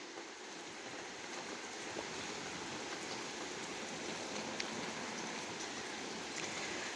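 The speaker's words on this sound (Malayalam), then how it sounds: "അതിമനോഹരമായ മഴയാണല്ലേ വളരെ ഇഷ്ടപ്പെടും എല്ലാവർക്കും" Steady rain falls as a dense, even hiss that stays constant and fairly soft, with faint scattered taps and no voices.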